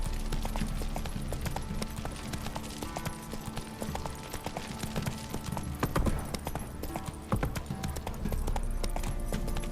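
A horse gallops in The Witcher 3, with a steady, fast clip-clop of hooves running continuously under a busy game soundscape, close and fairly loud.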